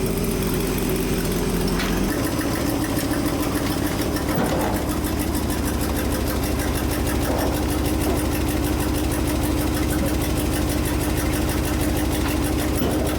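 A Ford F-600 dump truck engine idling after a carburetor rebuild with new plugs, a steady, even rumble held close and loud for the whole stretch, with no talk over it.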